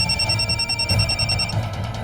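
A landline telephone rings in a tense Hindi drama scene, a steady electronic trill repeating for about a second and a half over a low room hum, then stopping, with no talk.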